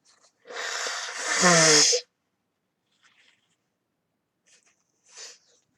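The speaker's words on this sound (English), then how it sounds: "I gotta blow my nose again" A loud, congested nasal blast from blowing a nose blocked by sinus trouble, lasting over a second, followed by quieter sniffs and a brief snort in otherwise quiet surroundings.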